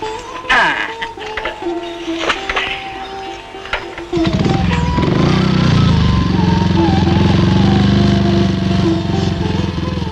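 A motorcycle engine in an old film scene starts up midway and then runs with a loud, steady revving drone close by, after a few quieter knocks and clatters.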